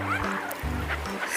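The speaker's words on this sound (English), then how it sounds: "Swan." A swan calls in a short series of low, nasal honking notes, fairly loud and close, with three distinct blasts in quick succession and no other voices present.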